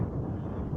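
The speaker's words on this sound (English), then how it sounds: "It's just a good bit windy out here." Blustery wind buffets the microphone outdoors in Rochester, New York, a steady low rumble of gusts filling the short moment with no voices.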